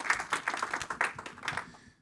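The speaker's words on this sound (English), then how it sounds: "let's give a final round of applause." A conference audience gives a brief round of applause after a session, quiet scattered clapping from a small room that fades out within two seconds.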